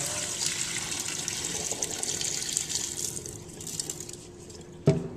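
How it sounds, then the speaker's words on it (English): Rinse water from washing rice for sushi pours and splashes steadily out of a bowl for several seconds, ending with a soft clunk. "Pour out all the dirty water."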